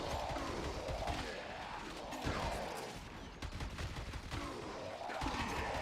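Dirigia gunfire in the video game Warframe, a dense, continuous stream of rapid shots and impacts, loud and sustained with brief dips, close and without talk.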